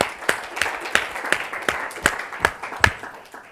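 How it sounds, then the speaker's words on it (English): Lecture-series attendees clap in a small room, a sparse, uneven run of distinct handclaps spaced roughly every third of a second, moderately close and with no talking. "So a big round of applause to them."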